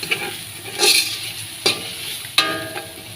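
A spoon scrapes and stirs masala in a hot pan with a few sharp knocks against the metal over a soft sizzle, close up, with no speech.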